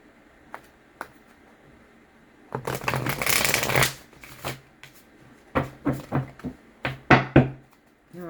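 A deck of tarot cards is shuffled up close: a long riffling burst, then a series of sharp papery slaps and ruffles in quick succession, with a couple of light taps before.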